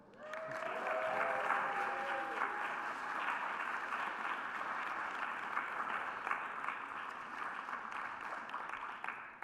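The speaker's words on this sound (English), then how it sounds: "Can we clap one more time?" An audience at a literary reading claps in a sustained, even round of applause, with a faint whoop near the start and the clapping holding steady throughout.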